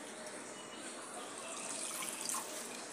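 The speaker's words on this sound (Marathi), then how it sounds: "मी हे पाणी याच्यात घालत आहे" Hot water is poured into a pot of spice masala for Kolhapur misal, making a steady, fairly close rushing pour that holds evenly for about three seconds and swells slightly near the end.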